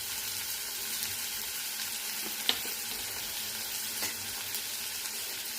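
A pan of curry seasoned with turmeric, salt and methi powder fries with a steady, even hiss, broken by a few faint stirring clicks, and no one speaks.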